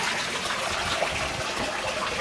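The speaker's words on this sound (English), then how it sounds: "It goes through a load of stone and lava rock, filters up through and out as a waterfall." Garden pond waterfall pouring out after filtering up through stone and lava rock, a steady close splashing gush of water with no break.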